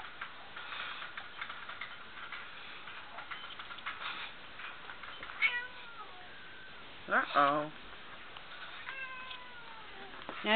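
A cat meows several times, some drawn out and complaining, near the microphone amid soft tapping and clicking.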